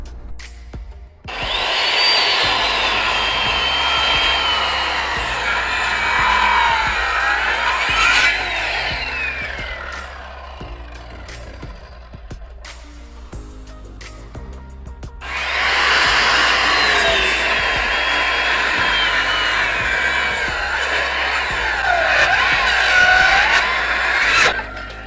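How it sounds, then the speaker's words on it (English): A Teccpo laser-guided circular saw makes a deep 45-degree bevel cut through wood. Two long, loud whining cutting passes, each several seconds, come close up, with a quieter, rattling gap between them. "So we're going to do a deep cut on a 45-degree angle."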